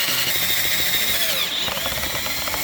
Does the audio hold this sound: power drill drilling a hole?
yes